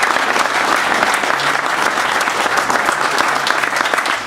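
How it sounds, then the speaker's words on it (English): Steady, dense applause from a crowd at a company open house, loud and sustained throughout with no pauses. "So a round of applause for Bobby."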